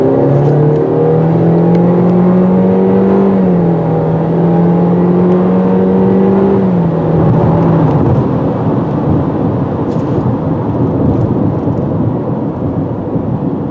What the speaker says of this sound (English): let's try some sport mode acceleration here